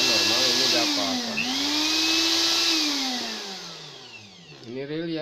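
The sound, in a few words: Philips blender motor running during repair test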